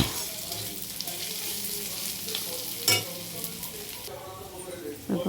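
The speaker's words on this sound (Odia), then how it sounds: "ଏଇନେ ପିଆଜରେ ଟିକେ ଭାଜିଦେବି, ତାର କଞ୍ଚା ସ୍ମେଲ୍ ଯିବ ଭାରି" Onion frying in a pan with mustard, ginger and garlic gives a quiet, steady sizzle, with a sharp clatter of a utensil near the middle and another at the end.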